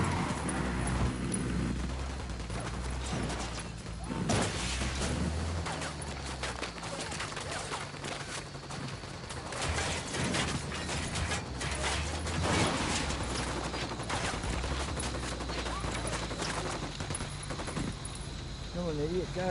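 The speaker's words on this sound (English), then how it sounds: "Ready? Fire. Opening fire." Gunfire in the shooter game Ghost Recon Wildlands, with rapid, continuous shots and mechanical clatter forming a dense, busy layer across the whole stretch while a voice talks over it.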